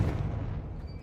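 Confringo blasting spell going off in the video game Hogwarts Legacy, a dense rumbling explosion with heavy low-end boom that fills the whole moment and slowly tapers, with no talk over it.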